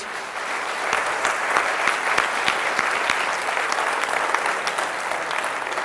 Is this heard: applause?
yes